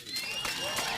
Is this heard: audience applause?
yes